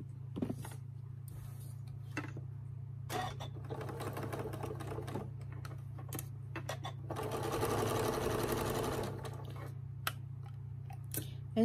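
A sewing machine stitching down a star-block patchwork piece for a Thanksgiving quilted table runner, running in several short bursts and one longer steady run of rapid needle chatter, close and clear over a constant low hum.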